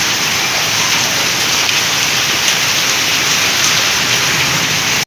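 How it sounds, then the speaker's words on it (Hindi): Heavy rain driven by strong wind makes a steady, dense hiss that holds at an even level throughout, with no voices or other sounds breaking through. "पवन जोरे दौला एबे वर्षा ढालू केमी देखते"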